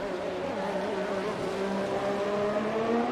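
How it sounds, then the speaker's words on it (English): Race cars in a video game at the Dutch Grand Prix drone steadily, their engine notes rising and overlapping in a continuous, moderately loud hum with no talking. "Now you can actually hear the cars."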